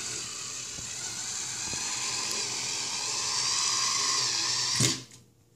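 A WineOvation WNO-02 powered wine opener, shaped like a bowling pin, whirs steadily and close up as its motor pulls a cork for about five seconds, then cuts off abruptly into quiet.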